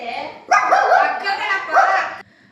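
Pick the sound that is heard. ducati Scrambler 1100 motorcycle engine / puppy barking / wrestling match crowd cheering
puppy barking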